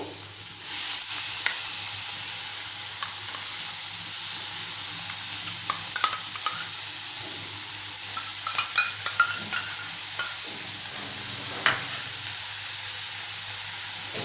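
A paste of onion, coconut, ginger, garlic and coriander is stirred into a pan of Malvani-style clam masala, a steady moderate sizzle and hiss with faint scraping and light clinks of the spoon.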